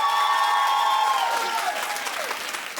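A talk-show studio audience claps during an on-air poll, a full burst of many hands with high whoops and shouts riding on top early, then thinning out over a few seconds.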